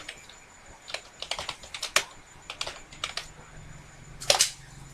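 Typing Python code on a computer keyboard: close, irregular bursts of clicky keystrokes with short pauses, ending in a quick flurry, no speech.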